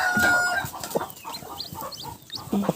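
A hen clucks repeatedly close by while newly hatched chicks emerge from their eggs, the clucks coming in short, soft bursts alongside faint chirping, with no talk over them.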